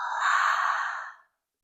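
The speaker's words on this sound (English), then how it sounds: "And an open mouth exhale." A single open-mouth clearing exhale during a power vinyasa yoga session in extended child's pose, a soft breathy sigh lasting about a second that fades out into silence.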